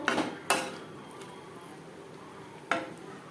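Potatoes and pointed gourd are tossed with spices in a pan, with sharp metallic clanks of a spoon against the pan at the start and again near the end over a faint, low sizzle.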